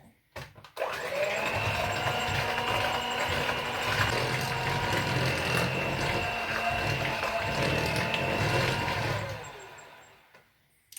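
Stand mixer churning thick chocolate chunk cookie dough with walnuts as dry ingredients go in, a steady loud motor whir with rhythmic mechanical hum running continuously for about nine seconds before winding down.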